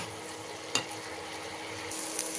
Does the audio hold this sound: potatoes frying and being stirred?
yes